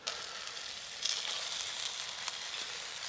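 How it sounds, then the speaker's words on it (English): Meat sizzles in a pot over a campfire in the woods, a steady close hiss and crackle of frying with small pops, holding constant throughout with no talking. "I can hear the meat sizzling"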